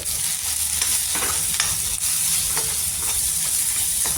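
Peanut powder, red chilli powder and black masala being stirred into a drumstick (shevga) bhaji in a pan, a steady close sizzle with repeated scraping strokes of the spoon at an irregular rhythm, no talking.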